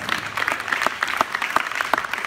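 Students in a high school audience give a short, even round of applause, many hands clapping at once and filling the room.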